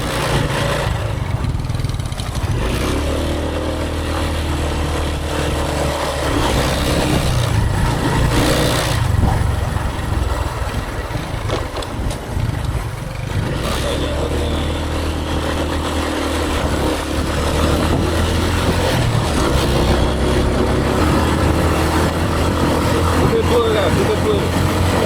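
A small boat's motor runs steadily and close by on a snakehead fishing trip around an island, a continuous low drone that briefly dips around the middle while people talk over it.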